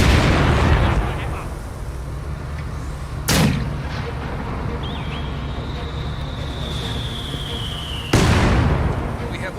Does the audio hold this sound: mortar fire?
yes